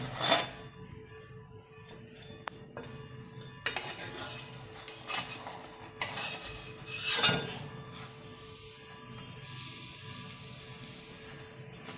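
A Kerala-style dilkhush pastry is flipped and pressed in a pan: a series of sharp metal spatula clanks and scrapes against the pan, then a steady frying hiss.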